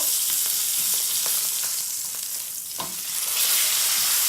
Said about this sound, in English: we're going to go ahead and flip our steak once more